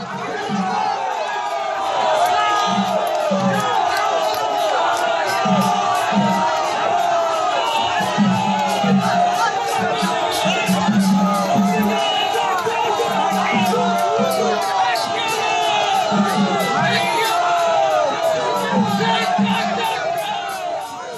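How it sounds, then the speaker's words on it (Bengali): BJP supporters at a Nandigram election rally during Suvendu Adhikari's procession chant slogans, a loud, dense crowd roar with steady rhythmic chant bursts running without a break throughout. "তৃণমূল প্রার্থী পবিত্র করকে উদ্দেশ্য করে স্লোগান বিজেপির।"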